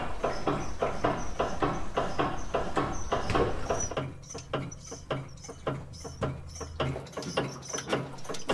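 A worn sway bar link on a car knocking while the car backs over a curb, a rapid series of small metallic clunks and rattles, fairly faint, continuing steadily through the stretch with no talking.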